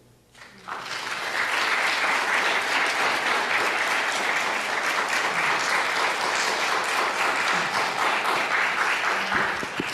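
An audience at a talk about Jewish life in small American towns breaks into loud, sustained applause that starts suddenly and keeps up steadily for several seconds with no voices.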